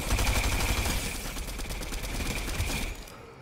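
Rapid gunfire in the Fortnite battle royale game, a loud continuous burst of crackling shots that carries on steadily before cutting off abruptly at the end.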